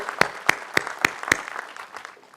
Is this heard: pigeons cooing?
no